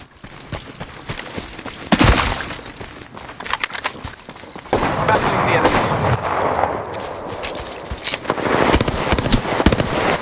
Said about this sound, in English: Shot fired, and they're hit.